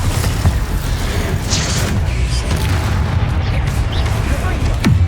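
A Bombarda explosion spell cast during Hogwarts Legacy combat on PS5 booms out amid a dense, continuous wash of spell blasts, bursts and effects, with several sharp impacts through the scene.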